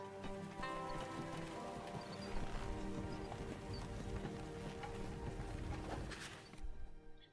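Horse hooves trudge slowly along the outskirts of a village in the video game Ash of Gods, a steady, close clopping with a broad ambient wash that cuts off near the end.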